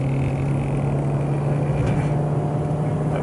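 Manual car engine accelerating in gear while overtaking on the road, a steady loud drone with strong low hum and road noise throughout, no talk.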